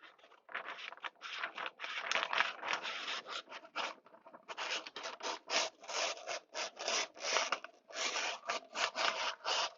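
Scissors snip steadily through a sheet of sublimation transfer material, short rasping cuts in quick succession with a brief pause midway, close up and without speech.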